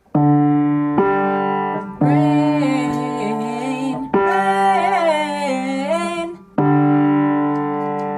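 Two voices sing the chorus of a song in close harmony a fourth apart, with Paul above John. The phrases are sustained and bright, and they come in four loud sections separated by short breaks.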